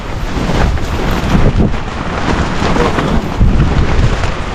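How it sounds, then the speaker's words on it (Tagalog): Strong, bitterly cold wind roars steadily across a mountain campsite at Mt. Olis in Atok, a loud broadband rush buffeting the microphone with gusts swelling and easing, no voices. "Grabe pa rin ang hangin."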